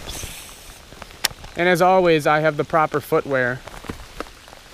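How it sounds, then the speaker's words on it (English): Cold, pouring 55-degree rain falls on a fishing outing in the Northwoods, a steady broadband hiss that runs through the whole stretch, most exposed at the start and continuing under someone speaking. "it is pouring right now, guys, and it's a cold rain"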